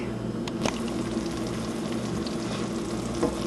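Egusi soup simmers on low heat in a pot, giving a soft steady sizzle and bubbling with a brief stirring scrape near the start, close and fairly quiet with no voices.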